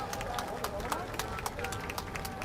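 Crowd at an outdoor political campaign rally in Busan claps steadily, sharp claps rising above a dense murmur of voices and background noise.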